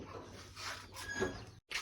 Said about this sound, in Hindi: ये देखिए गाइस इतना प्यारा कुत्ता, इतना छोटा है।